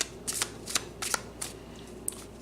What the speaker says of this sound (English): Let's shuffle it up a little bit.